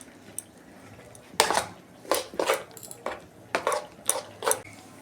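Lentil batter for dal fritters beaten by hand in a bowl, giving a run of sharp, close clattering strokes in irregular bursts with short pauses between.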